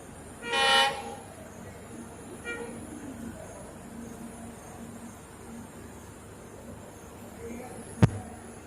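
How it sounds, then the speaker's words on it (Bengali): A brief train horn toot sounds near the start as the engine arrives, followed by a fainter second toot and steady low rumble, with a sharp click near the end. "আমাদের ট্রেনের ইঞ্জিন অলরেডি দেখা যাচ্ছে।"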